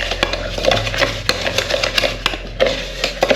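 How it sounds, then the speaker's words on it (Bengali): A spoon whisked by hand through coffee, sugar and a little milk in a cup, with rapid repeated clinks and scrapes in a quick uneven rhythm, close and fairly loud, and no talking. "আমি হাত দিয়েই চামচ দিয়েই ফেটাবো।"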